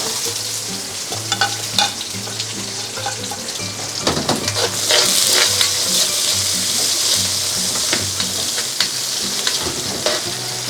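Spicy squid with spring onion stir-fries in a pan, a loud, steady sizzle broken by repeated scraping and clattering of a utensil stirring the food, close and without talk.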